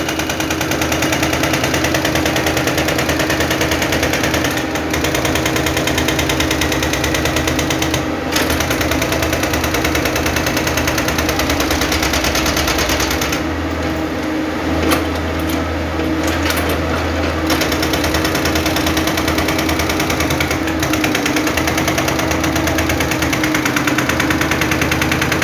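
A PC60 backhoe's heavy diesel engine runs steadily throughout, with a low rumbling drone and rattling mechanical knocks, loud and close, with brief bursts of clatter midway.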